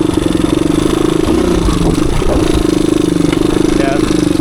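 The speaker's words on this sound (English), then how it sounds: "Like right now I'm in third. Just chug along right above idle." A 1985 Suzuki DR250 dirt bike chugs along in third gear just above idle on a wooded trail, its single-cylinder thump loud, close and steady, with some rattling and scraping mixed in.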